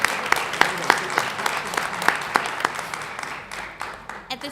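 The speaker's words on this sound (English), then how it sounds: "Can we have a round of applause?" Audience applause at a Socorro ISD school board meeting, a steady patter of clapping with a few sharper individual claps standing out, moderately loud in the room and tapering off toward the end.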